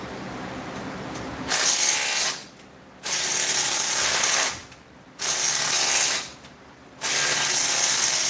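A small power tool gun runs in three loud buzzing bursts, each about 1.5 seconds long and separated by short pauses, close by and harsh, with no talk.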